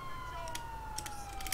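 Police siren arriving during a heist in a video game, a steady high tone that slowly falls in pitch, heard over a busy background of game noise and scattered clicks.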